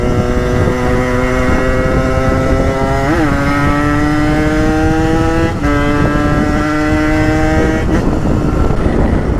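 Motorcycle engine idling steadily close by during carburetor tuning, with a few short revs and pitch shifts as it is adjusted; no talking.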